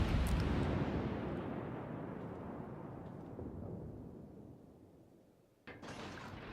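Naval gunfire in the World of Warships game: a heavy, close boom that swells into a long rolling rumble and fades over several seconds before a second sharp burst cuts in near the end.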